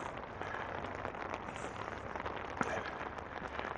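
Steady rain patters on an umbrella held while walking along a gravel path with puddles near a footbridge, a dense, faint hiss of drops with a single sharper tap.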